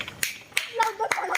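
Several sharp hand claps, spaced unevenly and mixed with people talking and laughing nearby.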